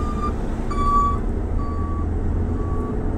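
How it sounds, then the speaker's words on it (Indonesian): A dump truck reversing before tipping a load of soil on a road in Kendari, its backup alarm sounding a steady series of long, evenly spaced tones over a low engine rumble and road noise. "di depan ada dump truck mau nurunin tanah."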